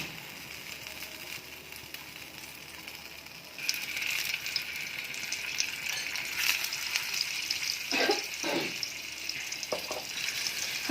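Pointed gourd (parwal) pieces hit a hot oiled pan: after a quiet stretch, a loud, steady sizzle and crackle of frying begins close up and continues, with brief scraping and stirring noises later on.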